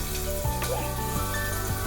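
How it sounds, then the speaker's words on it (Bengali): Onions frying in hot oil, a close continuous sizzle with a few soft knocks and scrapes over about two seconds, no talking. "পেঁয়াজটা ভাজা ভাজা হতে থাক,"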